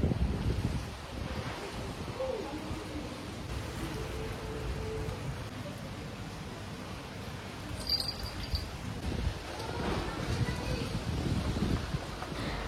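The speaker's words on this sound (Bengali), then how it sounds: "বাইরে বৃষ্টি হচ্ছে আর হাওয়াও দিচ্ছে ভীষণ।" Rain falling outdoors with strong gusting wind, a steady broad wash of noise and buffeting on the microphone throughout, with a few brief brighter patches partway through.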